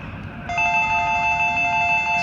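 A cell phone rings out in a performance audience, a bright electronic ringtone of several steady tones starting abruptly and sounding loudly and continuously without talk.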